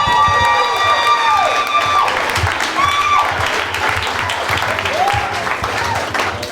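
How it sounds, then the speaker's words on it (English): Audience applause and cheering for a comedian at a fine arts comedy showcase, a dense, continuous roar of clapping with scattered shouts and whoops from the crowd, loud and close, with a voice briefly rising over it. "Huge round of applause."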